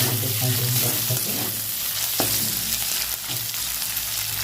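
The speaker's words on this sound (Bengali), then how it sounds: "এর মধ্যে দেবো টমেটো কুচিটা, ভালো করে ভেজে নেবো।" Ginger paste, chopped tomato and green chilli fry in a pan with a loud, close, continuous sizzle and the scrape of a spatula stirring. A brief clink sounds partway through, and no one speaks.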